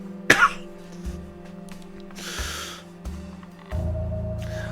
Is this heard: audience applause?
no